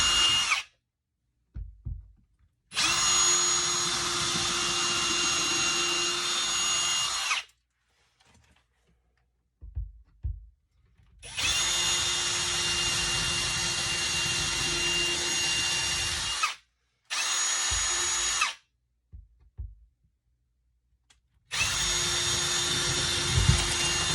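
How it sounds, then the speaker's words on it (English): A small drill bit in a hand drill bores holes into a closet wall, with several sustained whining runs of a few seconds each separated by silent pauses and light handling clatter. "I have put my small drill bit on my heart drill, and I'm just going to drill 2 holes here."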